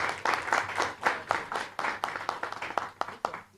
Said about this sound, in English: Those who are clapping.